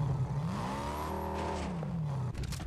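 A car in the Fortnite video game accelerates with a rising, whirring engine note that climbs and then falls back, close and steady, with no talking.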